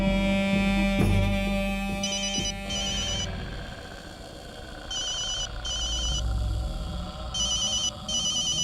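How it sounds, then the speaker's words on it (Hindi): An electronic phone ringtone trills in repeated bursts over a low background hum and music, fairly loud and close. "शेरा का फोन है हुजूर।"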